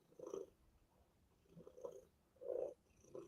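A cat purring in soft, rhythmic pulses, each swell repeating about every second, close and fairly quiet with no talking.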